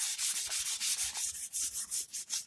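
400-grit sandpaper rubbed by hand over primer on a Bondo body repair, a close, steady back-and-forth scratching in even strokes about five per second, with no voices.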